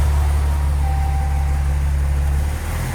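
A car fitted with a swapped Aisin 4th-gen transmission runs with its wheels spinning, producing a loud, steady low engine drone with a faint whining tone and a slight drop near the end.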